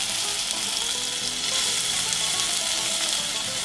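Tomato halves and peppers cook in hot oil with onion in a pan for a zucchini dish, giving a steady, close sizzle of frying with no one speaking.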